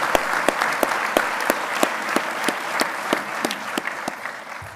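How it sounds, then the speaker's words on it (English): Applause at a police academy graduation ceremony, with sharp, evenly spaced claps standing out above a softer background of scattered clapping from the crowd. "Let's give another round of applause for everybody that was mentioned and had awards today."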